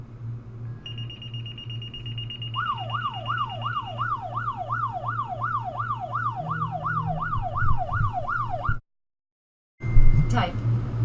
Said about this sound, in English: I'll show you how an alert will come in on the computer system